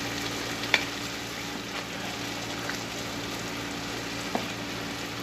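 Rice for Arabic hashu laham stirred in a pan over steady sizzling, with a few soft scrapes and clicks of the spoon against the pan.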